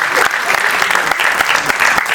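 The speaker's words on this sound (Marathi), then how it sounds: "एकदा जोरदार टाळ्या झाल्या पाहिजेत सगळ्यांसाठी" Loud, dense applause from an audience honouring a film's cast and crew, sustained and even throughout with no pauses.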